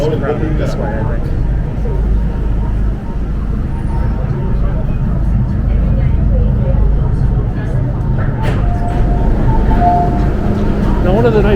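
Hong Kong subway cars in motion, heard from inside as a constant, loud low roar and rattle with a few brief squeals and clanks, and voices talking faintly beneath the noise.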